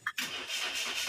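Flood-damaged Toyota Wigo engine starting on one try, a short click and then a quick crank that settles into a steady running hum, all within about a second.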